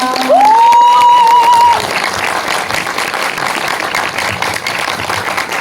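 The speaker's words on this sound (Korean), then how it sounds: "큰 박수로 맞이해주세요" An audience at a film Q&A screening at Hongdae Indiespace in Seoul applauds as the director and actors walk in. The clapping is loud and steady, and one long whoop rises over it at the start.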